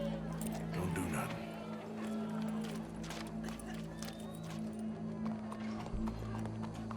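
Horse hooves clip-clopping in the video game Red Dead Redemption 2, a steady run of light hoofbeats under a low droning hum and murmuring voices in the background.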